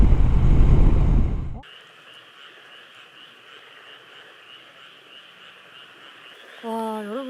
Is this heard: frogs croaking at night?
yes